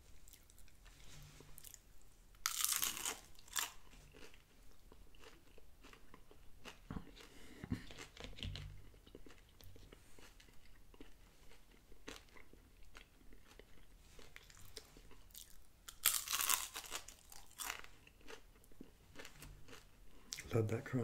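Close-up chewing of a crunchy Taco Bell rolled chicken taco in a deep-fried tortilla, with two loud crackling bites standing out amid steady moist mastication and small crunches, no voices.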